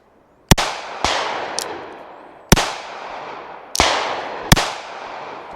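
Five sharp, loud shots from an NAA mini revolver with a longer barrel, fired two-handed at uneven intervals, each crack followed by a ringing, echoing tail outdoors with no speech.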